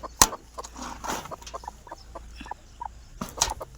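Chickens clucking close by in short, irregular bursts, with a couple of sharper squawks and quiet background rustling.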